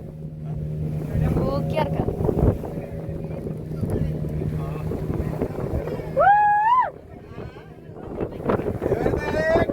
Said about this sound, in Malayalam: തിരമാലകളെ കീറി മുറിച്ചുകൊണ്ടുള്ള വള്ളത്തിലുള്ള യാത്രയിലാണ് ഞങ്ങൾ പങ്കെടുക്കുന്നത്